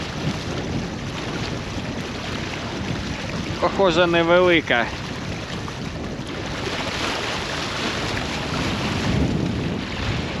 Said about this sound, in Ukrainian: Вітер усілюється.